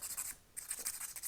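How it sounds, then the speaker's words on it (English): Close, soft scratchy rasping as 800-grade sandpaper files the sharp edges of a small silver bow pendant, quick repeated strokes with a brief pause midway. "This is grade 800 sandpaper"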